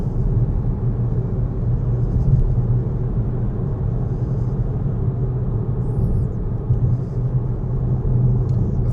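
A car accelerates along a road in sixth gear, heard from inside as a steady, loud low engine and road rumble that holds throughout with no speech.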